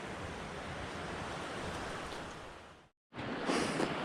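A snowy mountain creek flows beside a trail near La Plata in spring, a steady broadband rush of water close to the microphone that cuts out briefly before resuming.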